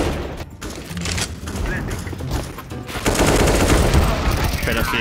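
Rapid automatic gunfire and bursts of shots in a shooter video game, loud and continuous, growing denser toward the end, with a voice speaking briefly over it.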